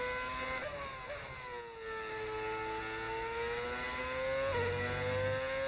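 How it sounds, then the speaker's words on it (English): A Formula 1 car engine in a racing video game holds a high, smooth, tonal whine, with gear shifts producing brief dips and rises in pitch. It plays steadily on its own with no talk. "Engine sound is pure harmony"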